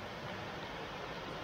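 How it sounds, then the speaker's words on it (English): Steady broadband rushing of a small waterfall at Hareshaw Linn near Bellingham, Northumberland, a soft continuous hiss with no breaks or voices. "That's the first waterfall then, isn't it?"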